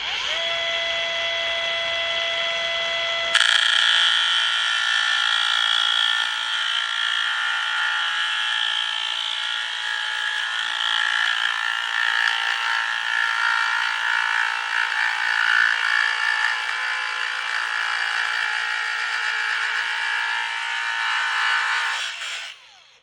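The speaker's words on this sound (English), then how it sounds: "cut this and separate these 8 cells from the other pack very carefully with the angle grinder" An angle grinder cutting apart a lithium battery cell pack for an off-grid BMS build, a loud, steady high-pitched whine that holds for about twenty seconds after a brief quiet start, then cuts off.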